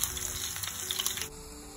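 Sliced shallots sizzle in hot oil in a pan while making an instant lemon pickle for an Onam sadya, a steady close crackle with no talking.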